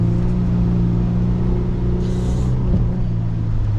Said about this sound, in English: So now we're in first, just on the throttle